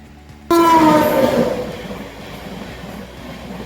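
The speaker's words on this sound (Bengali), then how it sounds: "তিস্তা তোস্তা এক্সপ্রেস।" The Teesta Torsa Express passenger train sounds a loud, close horn blast that starts suddenly and slides down, then gives way to a steady rumble of rolling carriages near Malda station.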